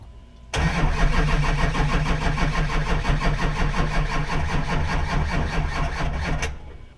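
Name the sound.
Chevy Duramax LB7 diesel truck engine starting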